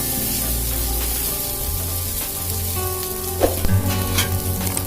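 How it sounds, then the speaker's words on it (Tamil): Green gram dosa frying on a hot pan after being flipped, giving a steady, close sizzle with a low hum beneath and a few brief spatters near the end. "ரெண்டாவது பக்கம் வேகட்டும்"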